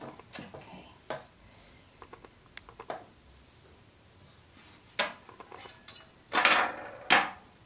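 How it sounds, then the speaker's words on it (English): Glaze is stirred in a pot, producing scattered soft scraping and knocking sounds, with a few louder clunks of the stirrer against the container near the end, in a quiet room. "So I'm just going to stir this up."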